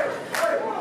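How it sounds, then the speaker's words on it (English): A wrestling crowd cheers and shouts for Ryan Kidd during a match, a brief loud swell of many voices at close range. "Oh, the crowd's certainly behind Kidd here."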